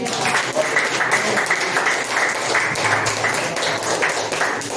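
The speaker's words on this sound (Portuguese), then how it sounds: "Aplauda o Senhor Jesus." Sustained applause from a church congregation, dense steady clapping filling the whole stretch with no break.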